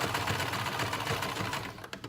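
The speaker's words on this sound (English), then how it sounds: "How my sewing machine just sounded when I was rushing just a second ago." A sewing machine stitching fast, a loud rapid continuous mechanical whir and clatter close by, slowing into a few separate thumps at the end.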